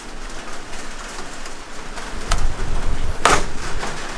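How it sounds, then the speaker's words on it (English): Heavy rain pours steadily onto a boat and lake surface at Lake Okeechobee, a dense close hiss with a couple of sharper knocks. "Actually, it's raining a lot."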